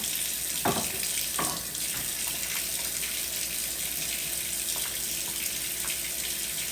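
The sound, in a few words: hot tap water running into sink with Dawn dish detergent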